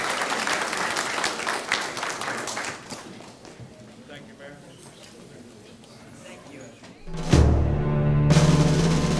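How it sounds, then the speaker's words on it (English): A crowd at a Veterans Day ceremony applauds the bagpipe player, a dense round of clapping for about three seconds that fades to scattered claps, followed by a nearby thump and a voice starting to speak. "Big round of applause to Bob Miguelo for playing our bagpipes."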